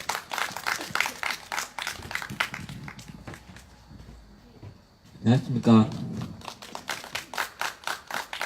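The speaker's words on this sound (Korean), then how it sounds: "큰 박수로 맞이해 주시면 고맙겠습니다." An audience at a Seongju candlelight rally claps to welcome the next speaker: brisk, dense applause at the start fades to a quiet stretch, then someone speaks a short greeting and the clapping swells again near the end.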